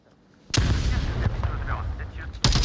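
A frag grenade explodes in a competitive video game match, a sudden loud blast after near silence, followed by sustained rumble and a second sharp burst at the end, with faint voices underneath.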